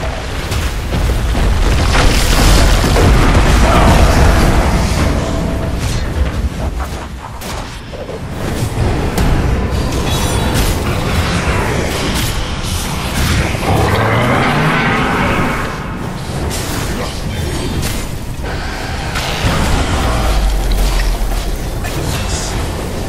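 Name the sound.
Dota 2 tower under attack, explosions from a video game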